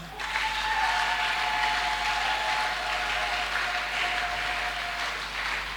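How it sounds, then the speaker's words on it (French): A church congregation applauds and cheers during a French-language sermon, a loud sustained wash of clapping with a high held shout riding over it, lasting several seconds without pause. "Est-ce que tu peux acclamer pour toi?"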